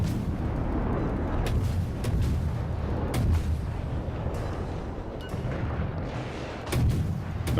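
Ship cannon batteries in a naval video game boom in heavy, overlapping volleys, making a dense, loud and continuous barrage with rumbling low blasts throughout.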